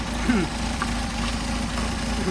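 A Mercedes 190SL with Solex carburetors idles at a little over 1,000 RPM, producing a steady, even low engine drone that holds without any revving.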